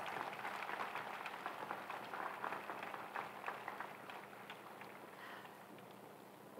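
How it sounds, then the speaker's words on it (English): Audience applause at a high school graduation ceremony, a steady wash of many hands clapping that holds at a fairly even level for several seconds. "Let's give these gentlemen a nice round of applause."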